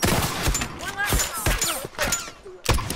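Gunfire in The Last of Us, with rapid bursts of shots and thuds overlapping one another, while a player talks loudly over the shooting.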